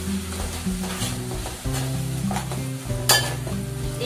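Freshly ground ginger garlic paste fries in a pan with a steady loud sizzle, a spatula stirring through it and one sharp scrape near the end.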